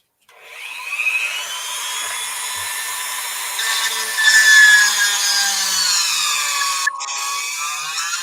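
A Dremel rotary tool bites into wood with a continuous high, rasping whir that rises and falls slightly in pitch for several seconds, close and unaccompanied.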